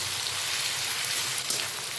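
Grated garlic and ginger frying lightly in oil in a pan, a steady crackling sizzle that holds close and even throughout with no pauses or voices.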